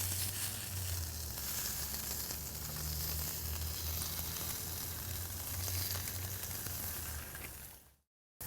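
A sausage patty sizzles loudly on a Blackstone flat-top griddle, a dense, even hiss that holds for about eight seconds before cutting off abruptly.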